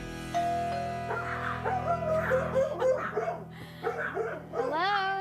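A family's pet dogs at home, including an Australian shepherd, give high, sliding yips and whines in a close, fairly loud run over a steady background hum.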